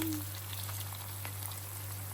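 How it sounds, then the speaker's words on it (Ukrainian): Borscht dressing with garlic stews in a vintage frying pan, giving a soft, steady sizzle and crackle close up with no one speaking. "Заправочка ось тушується, гарнює."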